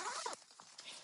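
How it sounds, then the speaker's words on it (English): A zipper closes on a Nomatic travel backpack, a quick close zipping rasp followed by a few softer pulls and rustles, no talking. "we're going to zip this up"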